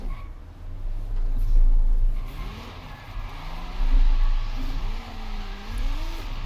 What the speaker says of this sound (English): Oh, listen to that motor purr